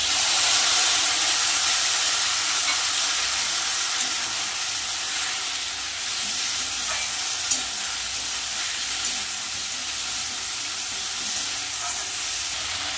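Ground ginger, cumin and dried red chilli paste added to potatoes and soybeans frying in a pan, giving a steady, close sizzle and hiss throughout with no talking.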